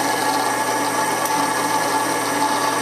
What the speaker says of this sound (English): When you go to the drill press, you want to drill a hole all the way through here.